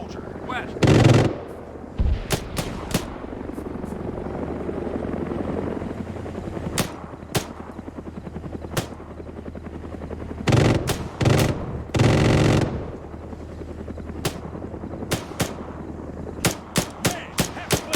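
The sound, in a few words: gunfire in video game ARMA III Cold War Rearmed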